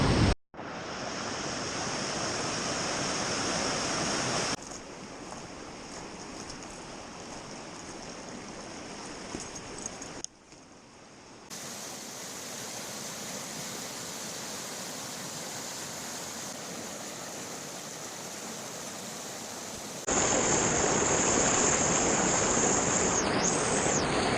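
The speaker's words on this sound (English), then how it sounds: "in the spring like this, there's so much water coming over it" Heavy spring flow pouring over a waterfall makes a loud, steady roar of rushing water that fills the whole scene, constant with no voices.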